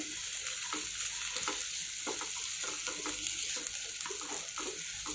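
A spoon stirs mayonnaise and cheese sandwich filling with salt and chopped coriander in a bowl, giving a soft, repeated wet scraping and squelching rhythm, close and fairly quiet, with no talking.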